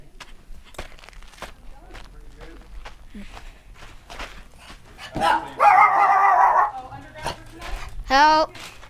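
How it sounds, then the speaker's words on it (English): Small dogs bark and yip in short bursts, a couple of loud, close outbursts over footsteps on a dusty desert road near Ballarat, California, with people talking. "They're little dogs."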